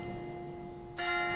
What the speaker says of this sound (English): Gainesville area churches tolling their bells to let freedom